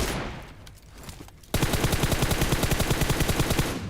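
Gunfire in the mobile battle royale game BGMI, where a quieter scene cuts abruptly into a loud, rapid, steady stream of close shots lasting over two seconds.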